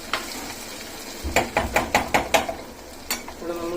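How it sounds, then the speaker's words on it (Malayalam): Onion shallow-frying in oil in a pan for chicken dum biryani, stirred with a utensil: a run of rhythmic scraping, clattering strokes over a soft sizzle, moderately loud and close, with no talking. "ഇവിടെ നമ്മൾ ഫ്രൈ ചെയ്യാൻ വെച്ച ഉള്ളി ഏകദേശം ശാലോ ഫ്രൈ ആയിട്ടുണ്ട്."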